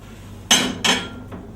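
Plates and cutlery clink while grilled paneer and halloumi are dished up: two bright, close metallic knocks in quick succession, then a faint third tap, with no talk.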